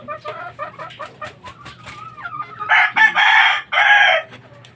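A gamefowl rooster clucks in a quick series of short, nearby calls, then lets out a loud, drawn-out crow, heard alone over a faint background hum.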